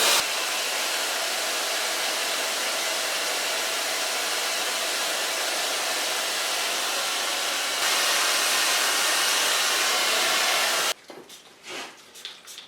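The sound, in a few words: hair dryer with diffuser blow drying curly hair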